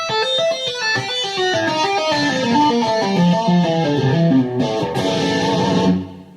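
A fast, flowing electric guitar tapping lick from the opening of a rock song, bright notes cascading up and down in a rapid repeating pattern, loud and close before cutting off.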